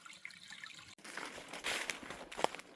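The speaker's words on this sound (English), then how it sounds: "but we still got some pretty good flowing water, as you can hear." Water in a stream trickles and splashes softly and close by, with small bursts of gurgling and dripping over a quiet background.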